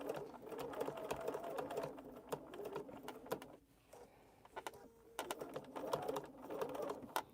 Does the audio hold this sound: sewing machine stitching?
yes